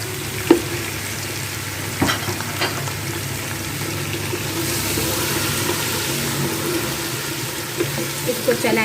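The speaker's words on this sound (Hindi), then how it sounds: "लहसुन अदरक में इसमें भून लेंगे ताकि इसकी जो स्मेल वगैरह वो सब दूर हो जाए।" Beef sizzles steadily in ground garlic and ginger paste, a continuous frying hiss with occasional scrapes and knocks of a stirring spoon in the pan.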